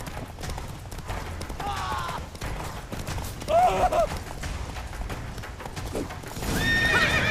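Horse galloping in The Witcher 3 video game, rapid clip-clop hoofbeats with loud whinnies and neighs over game effects, hooves continuing steadily throughout.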